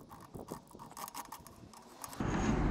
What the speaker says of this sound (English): We need to undo the hub nut here, which is in the center of the hub here.